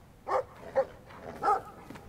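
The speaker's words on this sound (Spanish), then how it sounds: "Puto perro de los cojones." Dog barking in the video game Brothers: A Tale of Two Sons, three short separate barks at uneven spacing, fairly close and clear over a quiet game backdrop.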